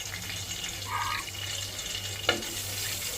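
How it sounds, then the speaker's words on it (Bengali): Garlic lightly frying in a pan makes a soft, quiet, steady sizzle and hiss, with a single brief clink partway through. "এরপরে আমি এখানে এটা একটু হালকা ভেজে নিব, রসুনটা একটু ভেজে নিব"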